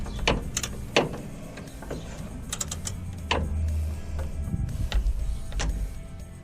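A ratchet works a 13mm bolt loose under the hood latch of a Jeep JK, giving repeated close, sharp clicking bursts with short pauses and a low background hum.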